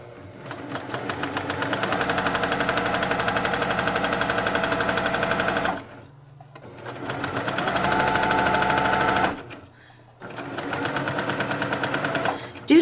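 A sewing machine stitches half square triangles for a quilt in three bursts of rapid, even mechanical chatter, close and loud, separated by short pauses.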